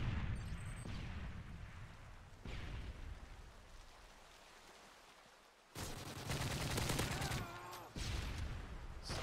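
Gunfire from a first-person shooter match with a CM901 rifle, bursts of shots across the clip, loudest in dense volleys near the end, with game ambience between them.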